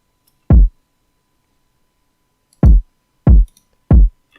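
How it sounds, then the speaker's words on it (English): Layered kick drum samples from a beat: four punchy, booming low hits with no other sound, one alone and then three in a closer group about two seconds later. "And I layered that with this kick."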